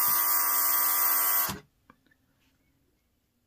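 A cheap airbrush bought on Amazon sprays in a loud, steady hissing buzz that stops abruptly, leaving a few faint clicks and near silence.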